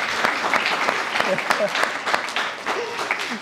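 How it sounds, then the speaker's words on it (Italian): Applause from an audience, steady clapping with some voices mixed in, filling the whole moment. "Applausi."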